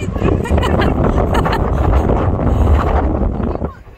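Strong wind roaring across the microphone while cycling to North Bull Island in Dublin, a steady loud buffeting rush that fades slightly at the end.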